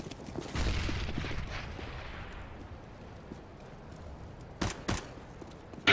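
A grenade blast in Counter-Strike: Global Offensive, a loud burst followed by a long decaying rumble, then a pair of sharp gunshot-like cracks near the end.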